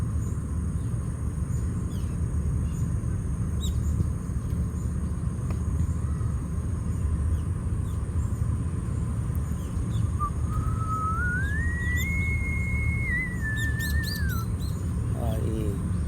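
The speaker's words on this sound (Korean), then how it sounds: "산새들이 지저귀는 소리와" Mountain birds chirping beside a nearby football game, with one clear rising and falling whistle and a few short chirps over a constant low outdoor rumble and insect hum.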